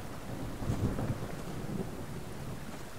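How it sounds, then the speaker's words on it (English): Thunderstorm in the survival game Subsistence: a low rolling thunder rumble swelling over steady rain and a little wind, continuous and fairly loud with no voices. "Here comes the storm."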